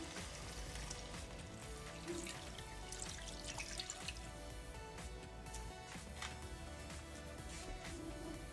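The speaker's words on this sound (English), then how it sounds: "Let's add 2 cups of water or enough water to cover the meat." Water pours and splashes steadily into a pot of meat for menudo, a continuous soft gushing with light dripping, fairly quiet and without voices.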